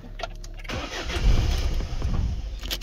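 A car engine cranks and catches after a brief quiet moment, then runs on at a steady, fairly loud idle close by, during repair work on a car with a partly disconnected EGR valve and a 12 V supply.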